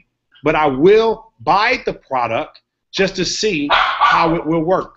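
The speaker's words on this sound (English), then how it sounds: "so excuse the dog barking" A dog barks repeatedly in the background while someone talks steadily in the foreground, the barks partly masked by his voice.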